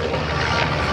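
At the 2009 NAS Oceana Airshow, a Pietsch aerobatic airplane flies right on the deck a few feet off the ground, its loud engine roar filling the air as it passes close.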